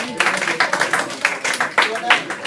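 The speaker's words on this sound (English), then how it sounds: "let's give her a round of applause" Classroom audience claps for a student performer in an English class reading, a close, brisk burst of several people clapping in an uneven rhythm, with a few voices calling out over it.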